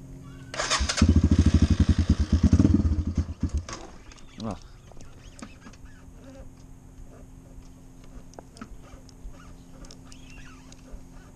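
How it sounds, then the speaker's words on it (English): A dirt bike engine cranks and catches with a loud rapid pulsing roar for a few seconds, then settles to a quieter idle rumble with small clicks and shuffles nearby. "We're gonna start the bike."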